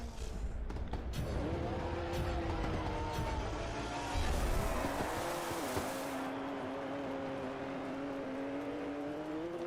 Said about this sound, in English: You're gonna be hearing that flat plane crank and you're gonna think, oh, it's a Ferrari.